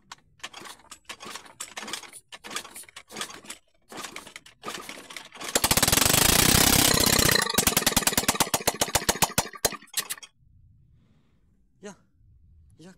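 A Chinese 50cc GY6 four-stroke scooter that will not accelerate is pedaled to start. Its engine catches with a loud, rough roar, then sputters into uneven pulsing firing before dying away, with someone talking before and after.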